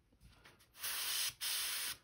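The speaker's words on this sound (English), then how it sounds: "I just spray all these candies straight out of the bottle." Candy paint sprays straight from the bottle onto a wake-bait crankbait in two sustained hissing bursts, close and fairly loud, with a short gap between them after some quieter handling.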